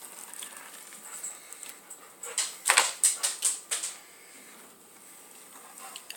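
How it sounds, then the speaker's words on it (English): An excited puppy gives a run of short, high whimpers in quick succession, close and moderately loud, then falls quiet amid faint background noise. "Say hi to my puppy."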